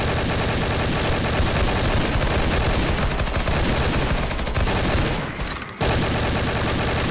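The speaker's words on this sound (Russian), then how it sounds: "вот он такой громкий пулемет" A loud machine gun in Garry's Mod fires in a long, relentless stream, cuts off briefly near the end, then starts up again. No voices are heard.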